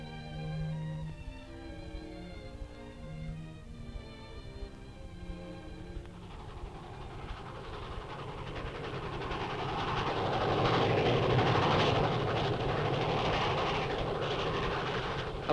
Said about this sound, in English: the power of a train were always exciting